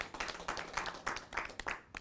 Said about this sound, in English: And let's give another round of applause.